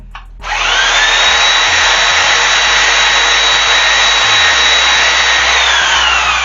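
A power tool trims and shapes a wooden axe handle, a loud, steady whining grind that starts abruptly and holds for several seconds close by, with no voices.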